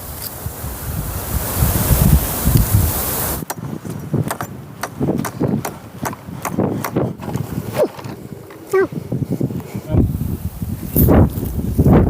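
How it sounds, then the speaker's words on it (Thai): Strong wind blasts across open farm fields, roaring into the microphone for a few seconds before giving way to gusty rustling with crackling bursts. Someone talks intermittently over it. "ลมแรงมากนะครับ"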